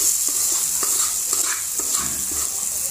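Pork Bicol Express fries in a pan with a steady, close hiss, while a spoon scrapes and stirs through it at irregular intervals. No one speaks.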